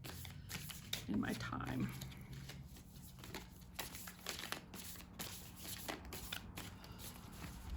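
Tarot cards are shuffled by hand, casino-style and then loosely, with repeated crisp riffles and soft slaps close by under a quiet voice.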